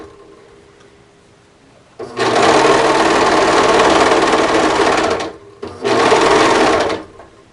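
A serger stitches cardigan fabric in two loud, steady bursts, a long run followed by a brief pause and a shorter run, with no talking.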